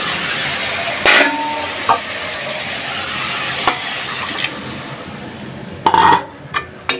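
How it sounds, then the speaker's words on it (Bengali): Spice paste for a fish curry being sautéed in a pan, a steady soft sizzle with a few sharp scrapes and clinks of a spoon against the metal, loudest near the end. "তরকারির জন্য মশলাটা ভালোভাবে কষা নিচ্ছি"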